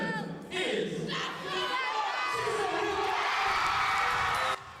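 Audience cheering and whooping at a hip-hop dance-off, a loud swelling roar of shouts that builds and then cuts off sharply, with a voice talking at the start.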